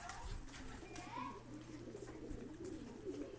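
Fighting pigeons give faint, low cooing calls, quiet and continuous against a soft background.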